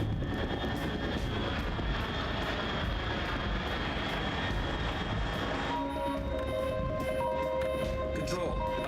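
An aircraft drones steadily overhead in Metal Gear Solid 3: Snake Eater, a constant engine roar that fills the scene, joined partway through by a tonal electronic beeping pattern.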